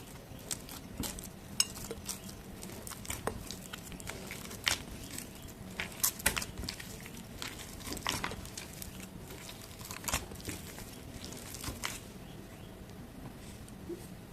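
Wheat flour and egg dough is mixed into a chapati-like ball in a bowl with a little ghee, giving soft squelches and sharp clicks of hand and utensil against the bowl. The sounds are close and uneven, with no talk.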